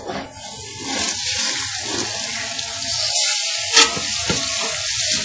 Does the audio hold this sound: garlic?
yes